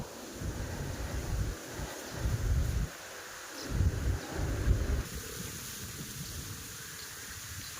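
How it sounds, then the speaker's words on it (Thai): A strong, cold wind gusts outdoors during a fishing trip, buffeting the microphone with low, uneven rumbling surges that rise and fall over several seconds, with no voices. "สุดๆแล้วลม"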